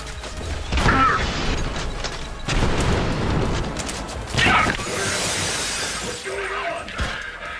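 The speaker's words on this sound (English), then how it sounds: "Tossing a grenade!" A thrown grenade explodes in the shooter Trepang2 amid chaotic combat. Several loud, crashing bursts with shattering, debris-like texture rise and fall over a dense bed of battle noise.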